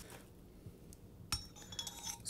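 Glass smoking piece from a monthly subscription box clinking as it is unpacked, a sharp bright tap midway followed by lighter glassy rattles and clinks, close and fairly quiet with no talking.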